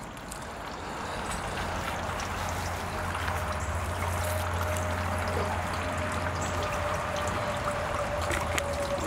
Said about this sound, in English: Then we'll water them in,